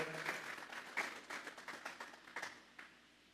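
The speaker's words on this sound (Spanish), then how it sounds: "Vamos a darle una ofrenda de palmas a Dios en esta hora" A church congregation clapping as an offering to God, scattered hand claps at a moderate distance, fairly faint and tapering off into a few last isolated claps.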